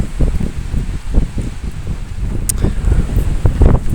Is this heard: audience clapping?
no